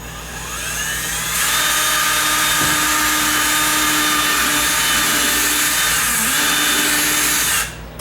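A power drill whirs up and drills steadily into wooden door frame while a loose hinge is fixed, a loud close continuous whine with a deepening pitch as the bit bites, then spinning down abruptly.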